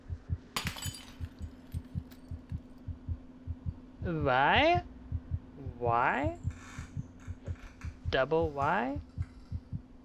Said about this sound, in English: I hear a heartbeat.